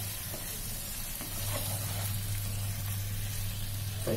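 Small dum aloo potatoes sizzle and fry in masala-coated oil as they are stirred, a steady close crackle with a few soft scraping strokes and no talking.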